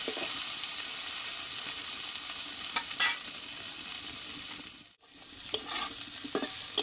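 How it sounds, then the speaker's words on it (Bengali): Steady sizzling of taro being stir-fried in a wok over very high heat, with a few scraping stirs and a brief pause midway; no voices. "আমি একটু কষিয়ে নেব কড়াতে একটু লেগে যাবে"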